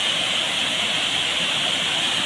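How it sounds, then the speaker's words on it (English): A small waterfall on the Laoti River in Chirang, Assam, gives a steady, dense rush of falling water. The close, unbroken roar holds at an even level throughout with no voices. "new waterfall located in Chirang district and which is known as Laoti River"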